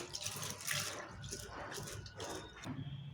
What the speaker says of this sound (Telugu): ఈ శనగపప్పులో నీళ్ళు పోసి ఒకసారి ఇట్లా కడుక్కోవాలి